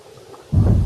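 A deep, loud rumble of thunder swells in after a quiet start and rolls on steadily, with a hiss like rain beneath it.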